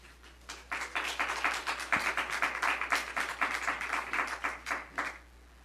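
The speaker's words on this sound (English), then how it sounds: "I'm going to ask that we refrain from clapping" An indoor audience at a Brisbane planning commission meeting breaks into applause: a dense, steady patter of many hands clapping for several seconds, then tapering off at the end.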